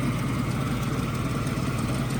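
A ZIL truck engine idles steadily in a continuous low rumble, moderately close, with no talk over it.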